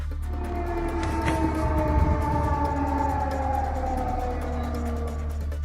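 An air raid siren wails steadily from a distance, its long rising and falling tones sustained throughout with a constant low hum underneath.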